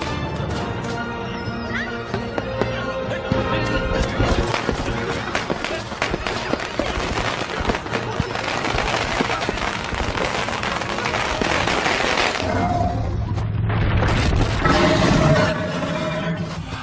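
Firecrackers burst in rapid, crackling volleys through an animated Chinese 3D film scene, dense and loud throughout, with a horse neighing and voices shouting over the clatter.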